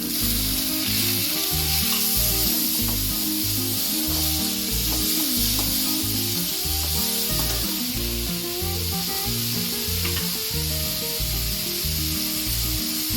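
Tomato and onion with garlic sautéing in a pan for sardine fish curry, a steady loud sizzle running the whole time with a rhythmic background thumping.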